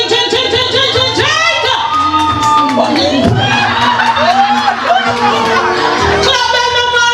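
Wedding guests in Jamaica cheer and whoop as the bride and groom drink, a steady crowd roar with shouts and laughter rising over a constant backdrop of voices and loud speech.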